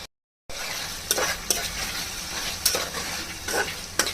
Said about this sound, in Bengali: এখন ধুয়ে রাখা মাছগুলো দিয়ে দিব।